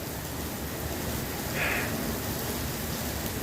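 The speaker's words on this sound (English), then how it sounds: "Now this rain's a little bit chilly for that." Steady rain falling outdoors at a nature center, a constant close hiss of drops with no voices and no pauses.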